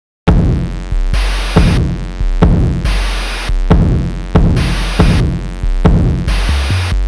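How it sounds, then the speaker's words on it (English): A heavily distorted synth from a hip-hop production plays alone in a rhythmic pattern of loud, buzzing, noisy stabs that repeat about every second and a half, each swelling then cut off abruptly. "Then we have this really heavily distorted synth sound."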